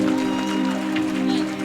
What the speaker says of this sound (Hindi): टिके जोरदार ताली